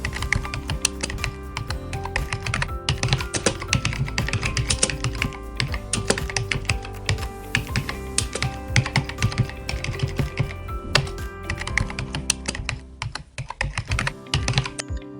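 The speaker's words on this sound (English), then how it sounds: "So now let's write the rest of the code." Computer keyboard clattering as code is typed, a dense, fast, continuous run of close key clicks with brief pauses near the end, no talking.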